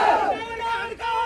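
A crowd of political supporters shouting slogans in unison at a rally, a loud sustained massed roar of voices that dips briefly before rising again.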